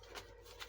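Paper scraps rustle and shuffle inside a junk journal box in two brief, soft bursts close by.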